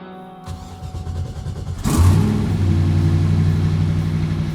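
A car engine cranks and catches, then revs up loudly and settles into a steady, throaty run.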